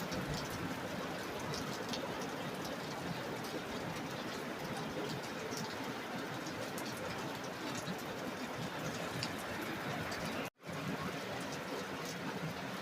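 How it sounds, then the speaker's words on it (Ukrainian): Steady, dense rainfall patters continuously, loud and close, with a brief cut near the end. "Пішов дощ."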